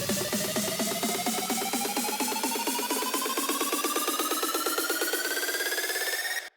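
A progressive house build-up climbs steadily, a fast accelerating drum roll under a rising riser tone that swells for over six seconds before cutting off abruptly.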